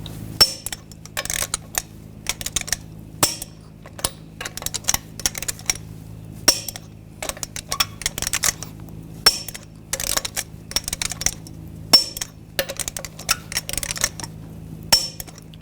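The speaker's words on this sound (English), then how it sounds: "Now we're going to torque these lug nuts in a cross pattern to 140 foot-pounds." Lug nuts on a 2014-2018 GMC Sierra 1500 wheel being tightened with a torque wrench in a cross pattern: sharp metallic clicks and clinks in irregular bursts over a faint hum, close and clear, with no speech.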